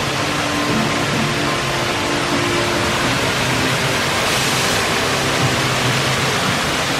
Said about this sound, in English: this is a really nice effect with the waterfall on the tunnel just here.